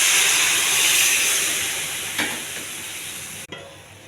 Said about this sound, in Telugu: ఈ ఆవిరిలో ఉడకగా వచ్చిన వాటర్ అండి,